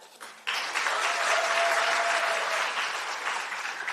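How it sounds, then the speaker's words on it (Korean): An audience at a women's political rally bursts into loud, sustained applause that stays dense for several seconds after a brief quieter moment. "여러분 큰 박수로 모시겠습니다"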